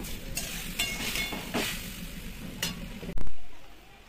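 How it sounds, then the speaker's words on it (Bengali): Chili chicken sizzles and fries in a pan with occasional stirring scrapes, a hissing crackle broken by sharp clatters, then a loud sudden hiss surge near the end. "তো এখানে মা চিলি চিকেন রান্না করছে, তোমাদেরকে তো বললামই।"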